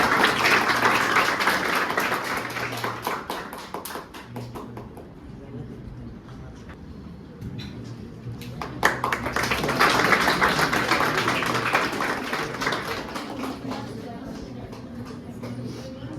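A crowd claps loudly for a teacher at a polytechnic coaching class gathering: dense, steady applause swells, thins out midway, then returns strongly, with voices murmuring underneath.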